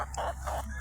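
Backyard chickens cluck softly nearby in short, uneven bursts against a faint steady background.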